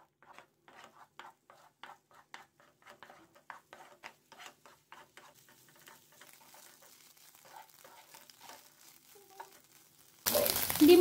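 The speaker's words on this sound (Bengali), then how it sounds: "ডিমগুলো ঝরঝরে করে ফ্রাই করে নিচ্ছি।" Two beaten eggs fry in hot oil in a pan, giving sparse, light crackles and soft stirring clicks, with a sudden loud sizzling burst at the very end.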